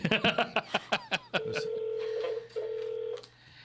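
Telephone call to a business line: a burst of rapid dialing tones followed by a long steady ringback tone, heard alone and clearly, then a brief pause.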